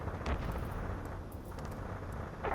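Gunfire and explosions in the video game Ace Combat 7, a low, rumbling wash of distant blasts and scattered pops echoing over a city under martial law, fairly faint and continuous.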